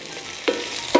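A spoon scrapes twice through potatoes frying in a pan, two short close strokes roughly half a second apart, with a faint continuous sizzle underneath.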